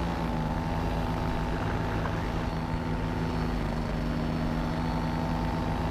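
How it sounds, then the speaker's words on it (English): A paramotor engine runs at a steady drone during break-in, its continuous propeller hum holding constant pitch and level throughout, with no voices. "I'm content with just running my motor at different RPMs during this first 10 hours with a break-in"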